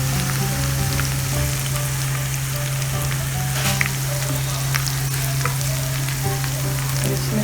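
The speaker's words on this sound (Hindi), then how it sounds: "तो अब 1 चम्मच डाल दिया अदरक लहसुन का। इसको लाइट सा ब्राउन करना है।" Ginger garlic paste frying in oil for chana kofta makes a steady, rain-like sizzle with faint stirring. A constant low hum runs underneath and nobody speaks.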